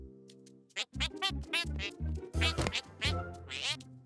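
A cartoon duck quacks repeatedly in a lively run of short, nasal, bouncy calls, close and clear over a light musical backdrop.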